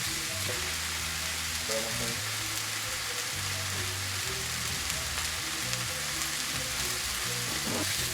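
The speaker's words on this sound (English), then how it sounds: "We're just trying to get another layer of flavor and brown the sausage just a little bit" Fully cooked spicy sausage browns in a pan with a constant dense sizzle, close and even throughout, along with low scraping and stirring tones and no voices.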